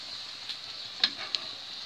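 Moroccan flatbread sizzles steadily in hot oil with a soft, even hiss, broken by a few light clicks and taps as oil is spooned over the dough.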